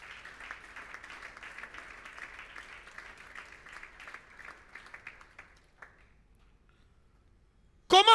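Church congregation at a Sunday service claps and acclaims for several seconds, a moderate steady patter of many hands that fades out into near silence, with a sharp loud burst at the very end.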